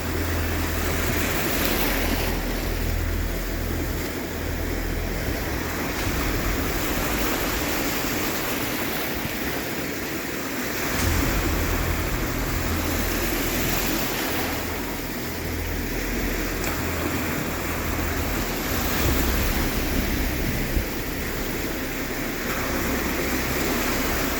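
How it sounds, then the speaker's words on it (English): Ocean waves intersecting at the shore give a steady, loud rushing roar of surf that swells and recedes in slow cycles, heard up close with no talking. "Because I want to try to capture the waves intersecting."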